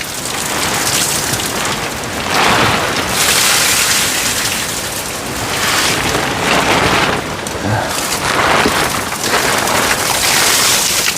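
Heavy rain pours onto a tarp in the middle of a forest, a loud, dense and continuous drumming that swells and eases slightly in waves throughout, with no voices over it.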